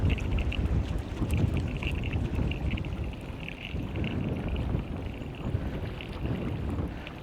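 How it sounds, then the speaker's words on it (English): Strong gusts roar across an open fishing boat out on Florida water while crappie are caught on long lines, a steady low buffeting rumble that fills the whole stretch with no talk. "this wind is crazy"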